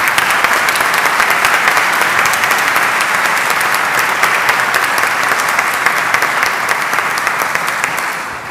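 Sustained audience applause at a business club event presentation, a dense, steady wash of clapping that holds loud and even for about eight seconds before starting to fade at the end.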